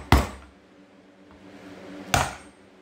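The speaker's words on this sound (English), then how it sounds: "take a screwdriver and a hammer and punch it out" A hammer drives a screwdriver to punch out the knockout plug on a Badger 1/2 hp garbage disposal: two sharp, close metallic blows about two seconds apart, with quiet between them.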